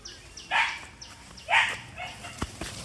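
A dog in a rural Bangladeshi neighbourhood gives two sharp, mid-loud barks about a second apart, followed by a few faint clicks and rustles, with no talking.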